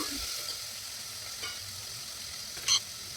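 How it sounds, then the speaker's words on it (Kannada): Onion and tomato frying in a pan for sambar give off a faint, steady sizzle with occasional soft stirring scrapes and one sharper clink near the end. "ಇದಿಷ್ಟು ಚೆನ್ನಾಗಿ ಫ್ರೈ ಆಗ್ತಾ ಇದೆ"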